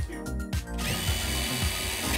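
A power drill pre-drilling a screw hole into wood on a farmhouse porch build, short bursts of whine and then a sustained loud grinding bite into the timber, close by.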